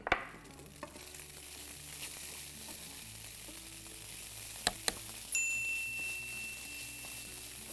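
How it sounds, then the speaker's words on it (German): Smoked tofu sizzles steadily in a pan with onions and garlic, a continuous close frying hiss with a couple of sharp metallic clinks partway through and no talking. "der wird währenddessen auch seine letzte Flüssigkeit verlieren und darf dann die letzten 2 Minuten gemeinsam mit Zwiebeln und Knoblauch weiterbrutzeln"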